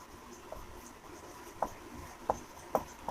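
Chalk strokes on a classroom board during a Class 12 chemistry lesson, four or five short scratchy taps spaced unevenly over a faint room hum, with no voice.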